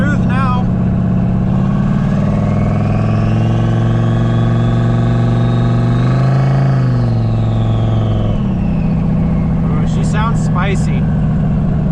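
A newly installed motor running after being flooded with fuel, a loud, close, steady engine rumble that rises briefly in pitch around the middle, then settles back, with a short voice near the end.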